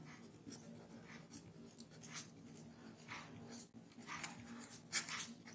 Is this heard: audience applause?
no